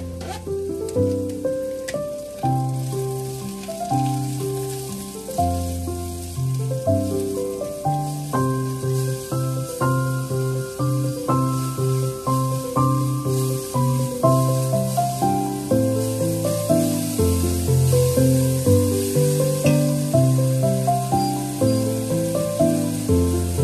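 Mushrooms and chili sizzle with garlic in a pan in a small studio-apartment kitchen, a soft, steady frying hiss under prominent melodic background music.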